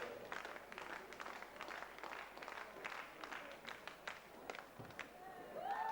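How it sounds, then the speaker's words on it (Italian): Spectators in the stands clap in rhythm to spur on a masters triple jumper at an Italian athletics championship, a steady run of fairly faint, distant claps from a small crowd. "Applauso ritmato per caricare l'atleta."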